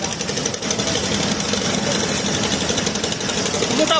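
Engines of sand-carrying trawler boats at a busy river landing near Sylhet, a dense, continuous mechanical chugging and rattling that stays loud and steady throughout.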